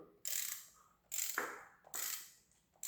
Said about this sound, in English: I'm going to put my ratchet and everything on here. And I'm just going to kind of crank this thing over